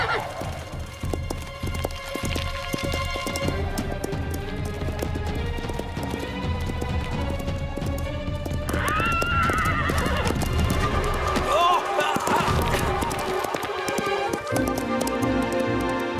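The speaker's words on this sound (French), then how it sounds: "Ce poney a des ailes dans ses sabots." Pony galloping in a cartoon, with rapid clip-clopping hooves and whinnies over an orchestral music score, loud and continuous with no talk.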